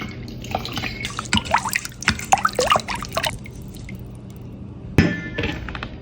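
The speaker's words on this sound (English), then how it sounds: "a splash of rum" Rum is poured into melted butter, brown sugar and vanilla for Jamaican toto, giving a short run of wet splashing and dripping with a few glassy taps, then a pause and a single sharp knock.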